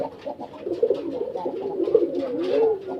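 A pigeon coos in a low, throaty, repeated rumble, several soft rolling calls in close succession, heard nearby and alone without talk.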